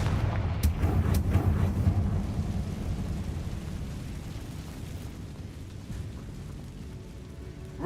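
In Hogwarts Legacy, a Confringo blasting spell goes off as a deep, rumbling explosion. The boom is strongest at the start, then fades into a long low roar and debris noise with no talking.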